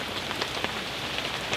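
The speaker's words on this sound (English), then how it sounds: "hope this rain passes. I've got a feeling it isn't. I think it's set in for the night now" Rain drumming steadily on a bushcraft camp at night, a dense patter with a few sharper nearby drops, close and even, no talking.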